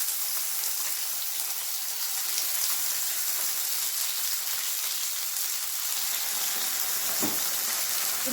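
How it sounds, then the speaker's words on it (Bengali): Stuffed flat beans drop into hot mustard oil in a frying pan and sizzle loudly, a dense, continuous crackling hiss that holds steady throughout with one brief bump near the end. "তারপর তেল গরম হয়ে যাওয়ার পর শিমগুলো যতটা ওর মধ্যে আটবে ততটা দিয়ে দিলাম।"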